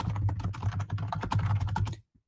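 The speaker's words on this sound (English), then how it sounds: "I'm just typing in the side chat." Rapid, steady typing on a computer keyboard during a live call-in show, close and clear, with a low steady hum beneath, stopping abruptly near the end.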